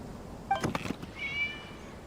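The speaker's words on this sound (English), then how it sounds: "It was just a cat." A cat meows in the video game Genshin Impact: a brief high chirp followed by a longer, clear, drawn-out meow, heard alone over a quiet background after a few soft thumps.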